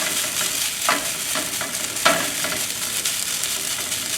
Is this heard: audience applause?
no